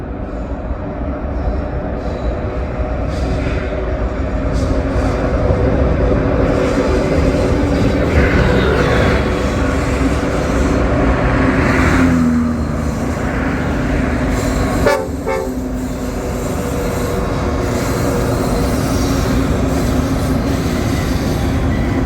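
Norfolk Southern freight train 1074 rolls across a trestle at Overall, a steady loud rumble of railcars and wheels with squealing flanges and a brief horn toot, close and continuous throughout.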